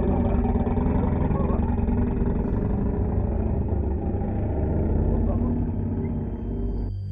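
A steady, loud engine rumble of motorcycles pulling away from a street dominates throughout, mid-pitched and continuous, easing slightly near the end.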